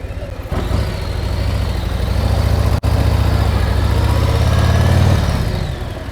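Motorcycle engine running steadily at low revs during slow-speed riding, a loud close rumble with a slight rise and fall in pitch and no talk.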